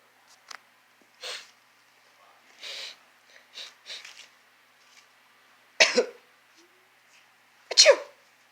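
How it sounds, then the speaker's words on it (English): Two loud, sharp human sneezes a couple of seconds apart, preceded by several fainter short breathy sounds, during an attempt at a quiet game at home. "Achoo!"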